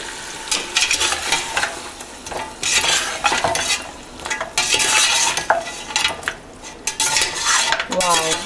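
Yogurt being stirred into rogan josh meat in a pot, a spoon scraping and clinking against the metal over a low sizzle, with steady repeated strokes throughout and no talk.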